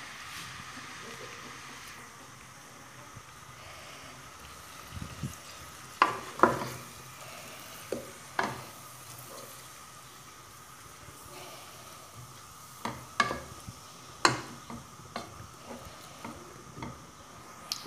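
Onion and red meat fry in a pan, giving a soft steady sizzle under scattered utensil scrapes and clinks as the mixture is stirred, fairly close and moderately quiet.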